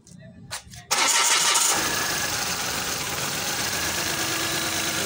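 A Mitsubishi G4 car engine cranks and catches after a fuel pump wiring repair, bursting loudly into life about a second in and settling into a steady, close idle; brief quiet noises come before the start.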